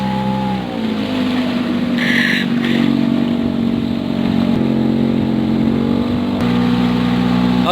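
A speedboat engine on the Ketungau River keeps up a loud, close, steady drone for the whole stretch, its pitch sliding slightly as the throttle shifts.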